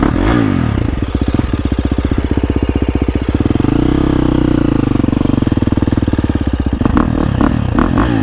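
A 2023 KTM 350 SX-F dirt bike engine runs close and loud, chugging in rapid pulses, then revs up and falls back before a final burst of throttle.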